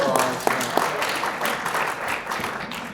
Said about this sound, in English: Let's give Hank a round of applause.